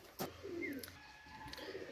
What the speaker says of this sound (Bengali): এখন কবুতরগুলো আপনাদেরকে দেখাই।